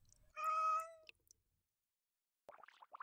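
A domestic cat gives one drawn-out, tonal meow, clear and fairly close in a quiet room, followed by a pause and a few faint, brief chirpy sounds.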